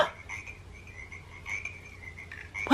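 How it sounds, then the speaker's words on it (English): A toy's recorded animal sounds play a frog croaking, a thin rhythmic croak repeated several times, small and close with quiet room sound. "That's a frog."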